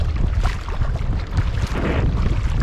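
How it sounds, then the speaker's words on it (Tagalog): Strong northeast monsoon wind sweeps across open sea, a loud, steady roar of gusting air and buffeting with no break. "Sagad-sagad na talaga yung amihan dito."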